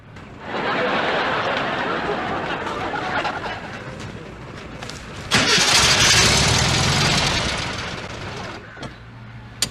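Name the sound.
car engine starting after being pushed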